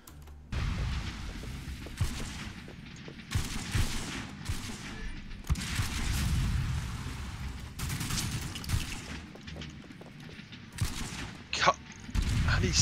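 Gunfire in a third-person shooter video game: repeated bursts of shots and fusillades across the clip, fairly faint and uneven, with brief talk from players between volleys.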